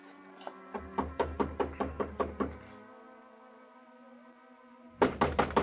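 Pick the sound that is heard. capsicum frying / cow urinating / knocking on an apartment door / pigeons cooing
knocking on an apartment door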